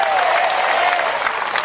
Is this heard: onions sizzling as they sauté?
no